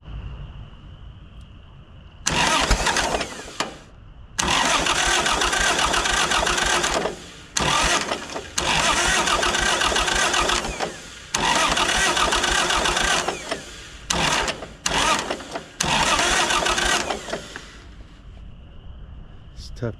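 A 1951 Cletrac Oliver crawler dozer engine cranks over in repeated long, harsh bursts separated by short pauses, grinding and struggling to catch; loud and close, with a quiet hum before and after.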